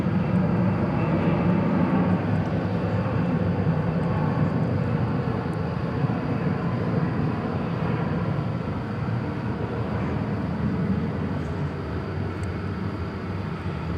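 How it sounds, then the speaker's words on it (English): An American Airlines Airbus A321 airliner takes off at DFW airport, a continuous distant jet roar that stays broad and steady before slowly fading. "American Flight 2433 is off to Portland, Oregon. That's it there. It's an Airbus A321."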